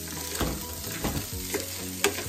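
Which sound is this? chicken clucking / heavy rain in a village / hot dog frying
hot dog frying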